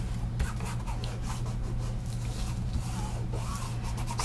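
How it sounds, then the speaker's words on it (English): A finger rubbing chalk ink around the edges of a paper craft tag, producing a soft, close, continuous scuffing over a steady low hum. "So I'm rubbing it in around the edges."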